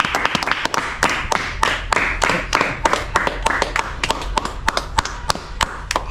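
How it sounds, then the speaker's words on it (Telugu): A group claps by hand at the end of a vegetable-eating challenge, a loose run of sharp, uneven claps close by for several seconds, with faint voices in the background. "Claps claps."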